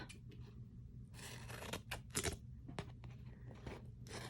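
Scissors trimming Paper Cameo paper, a series of quiet crisp snips and paper rustles in short irregular bursts, close up against a faint background hum.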